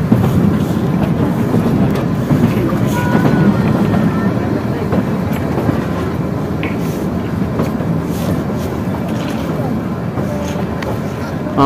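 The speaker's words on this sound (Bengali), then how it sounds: "যাচ্ছে ট্রেন" A train runs along the tracks after coming out of a tunnel, heading toward Summer Hill station. It gives a loud, continuous rumble with faint rhythmic clacking, heard close up from on board.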